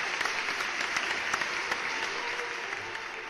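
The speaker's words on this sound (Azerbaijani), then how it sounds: "Böyük sənətkara alqışlar." Steady applause from many hands fills the space, with scattered sharper individual claps standing out, and no talking over it.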